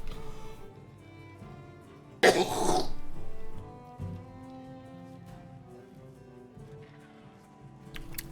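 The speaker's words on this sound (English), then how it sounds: "Figure you guys don't want to hear me coughing a bunch." A man coughs once, a short harsh burst near the microphone, while soft music plays underneath, with fainter throat sounds afterward.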